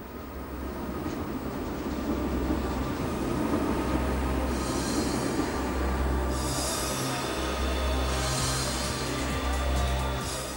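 The Metropolitan express train rumbles steadily across the Hohenzollern Bridge in Cologne, with continuous wheel and rail noise, rhythmic clatter and occasional high squealing, heard close and loud.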